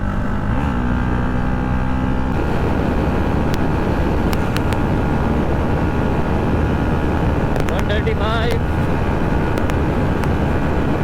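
A modified KTM Duke 250 motorcycle runs hard at speed in fifth gear, a steady loud engine drone mixed with heavy wind rush and occasional whistling tones throughout.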